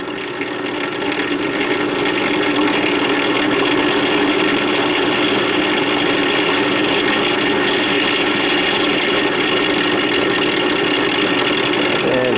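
A power drill whirs steadily and loudly at close range, boring holes in a fillet knife handle held in a clamp, with a constant motor drone throughout and no pauses.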